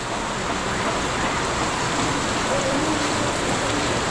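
Heavy rain pours down steadily on an outdoor lechon house, a dense, continuous hiss of drops with no breaks, fairly loud and close for the whole stretch.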